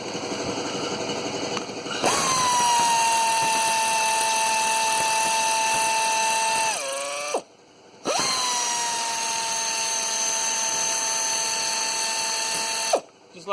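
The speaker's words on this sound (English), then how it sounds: "Now I'm going to take them 6 bolts off." A power socket tool removes six bolts on a 2011 VW Touran 1.6 TDI during EGR valve and cooler work, two long loud whining runs with sliding pitch, each ending abruptly, separated by a short gap.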